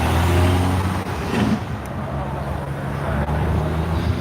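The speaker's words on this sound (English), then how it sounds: "Truck going by." A truck rumbles past on a city street, a steady, loud low-pitched engine roar that swells and then fades slightly over several seconds amid general traffic noise.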